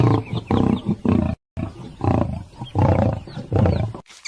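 A lion roars loudly and close, a series of deep rumbling roar bursts with a short silent gap in the middle, heard alone without talking.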